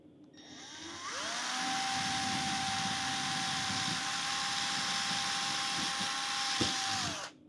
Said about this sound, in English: drill a little pilot hole right in here